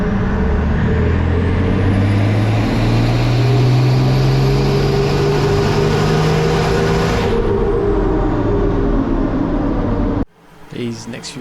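A TD42 diesel engine runs hard on a dyno rollers in a very loud dyno room, a dense roaring drone that climbs in pitch and sustains before cutting off abruptly near the end.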